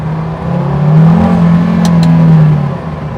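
A 2024 KTM X-Bow GT-XR's mid-mounted engine revs up close, rising to a loud sustained drone and easing back down over a few seconds.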